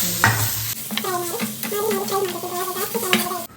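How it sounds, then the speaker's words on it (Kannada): Turmeric and masala powder fry and sizzle in a pan for tomato sambar, with steady loud crackling while a spoon stirs and scrapes close by, no one talking. "ಇದಿಷ್ಟು ಆದಮೇಲೆ ಇದನ್ನು ಮತ್ತೆ ಫ್ರೈ ಮಾಡಬೇಕು ಚಲೋ"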